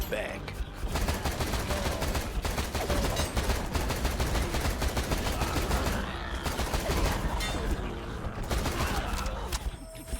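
Relentless rapid gunfire from a bullet heaven first-person shooter, dense bursts of shots hammering on for the whole stretch, loud and close, with a voice briefly heard beneath the din.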